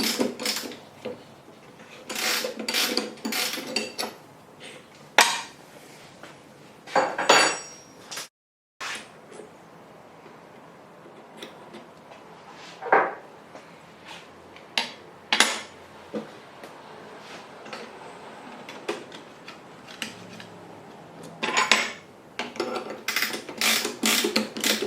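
Router bit being fitted into a Festool CMS router, with repeated metallic clicks, clinks and ratcheting taps from the spindle and wrench in close, irregular bursts separated by brief pauses.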